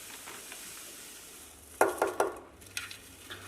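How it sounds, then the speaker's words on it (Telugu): Vermicelli (semiya) tipped into a pan and stirred while cooking a festival offering: a few sharp scraping stirs in quick succession near the middle, then lighter clinks, over a faint low background. "ఇప్పుడు దీంట్లో సేమియా యాడ్ చేస్తున్నాను"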